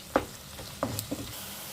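Onions with ginger-garlic paste frying in a pan for chicken fry, a faint steady sizzle broken by three sharp stirring clinks of a spoon against the pan.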